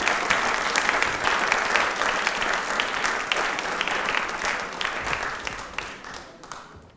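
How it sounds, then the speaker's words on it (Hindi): A studio audience at a televised quiz programme for Ambedkar Jayanti gives a private-school principal, Dr. Jyoti Gupta, loud, sustained applause that thins and fades away over the last two seconds. "एक बार तालियां मैम के लिए जोरदार हो जाएं प्लीज"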